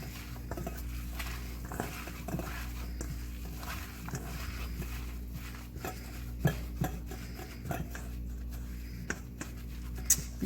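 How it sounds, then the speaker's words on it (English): An egg, breadcrumb and onion patty mixture is worked by hand in a bowl, giving soft squelching, patting and occasional light clinks of the bowl, close and steady over a low background hum. "Just kind of get the egg and the breadcrumb and the onions, everything mixed in really well."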